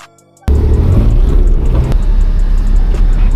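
A teenager's BMW drift car on the road, heard from inside as a sudden loud onset of deep engine rumble and road noise with rattles through the cabin, steady and heavy after a quiet start, no talking.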